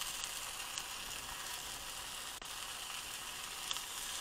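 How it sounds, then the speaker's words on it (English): Steady, soft hissing sizzle of cheese frying in hot oil in a pan, continuous with a few faint pops and crackles. "Got some sizzle."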